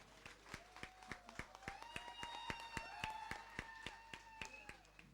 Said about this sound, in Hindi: एक बार जोरदार तालियां दीपक ध्यानी के लिए।